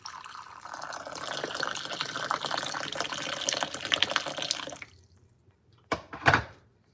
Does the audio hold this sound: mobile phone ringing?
no